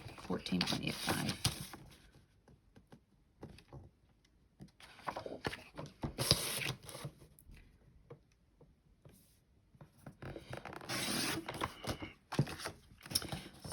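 Cardstock cut along marked lines on a paper trimmer while making stamped cards, with three separate bursts of scraping blade strokes, fairly close, between quieter pauses.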